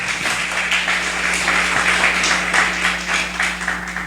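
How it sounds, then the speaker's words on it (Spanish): Church congregation applauding during a Spanish-language sermon, a steady broadband wash of clapping that holds at full level throughout without letting up, with no speech on top. "¿Cuántos le dan un aplauso por los grupos de oración aquí en casa?"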